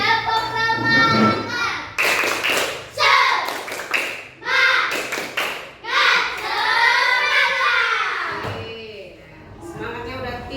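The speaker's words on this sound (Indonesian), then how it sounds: "Mana tepuk semangatnya ya? Tepuk semangat." A classroom of children does rhythmic spirit clapping, tepuk semangat, in bursts of patterned claps mixed with lively voices and chanting close by, loud and energetic.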